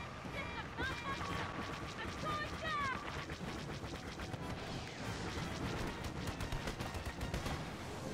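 Rapid blaster fire from a fighter's cannons strafes an Imperial ship in a Star Wars Battlefront space battle, dense repeated shots over a loud, continuous roar of engines and explosions, with voices talking underneath.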